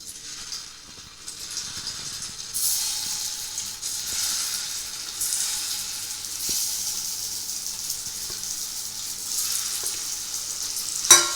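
Chhana (paneer) balls frying in hot oil for jeera paneer rice, a steady dense sizzle with bubbling hiss that swells as the balls go in, close and continuous, with no talking.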